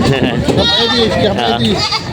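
Goats at a livestock market in Padre Garcia, Batangas, bleat loudly and repeatedly close by, their wavering cries overlapping with people talking.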